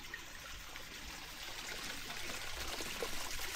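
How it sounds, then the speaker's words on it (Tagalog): A creek on rural farmland flows steadily, a soft continuous trickle and wash of water heard alone at low level, with no talking. "Ayan ang creek."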